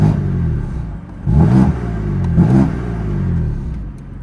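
A 2018 BMW F80 M3 with a 6-speed manual revs up twice in sharp bursts, the exhaust roaring close by between idling stretches.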